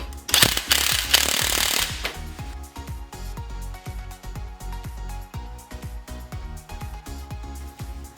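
Bolts on the leaf spring plate of a 1992 Jeep Wrangler YJ are tightened with a power tool: a loud opening burst, then a steady series of rapid, repeated mechanical impacts, close up, with no talking.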